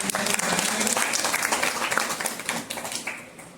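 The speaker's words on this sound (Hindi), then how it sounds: "अपने भी एक जोरदार ताली बजा लो सारे" Audience at a motivational talk breaks into loud, vigorous applause, dense clapping that holds strong before thinning and tapering off toward the end.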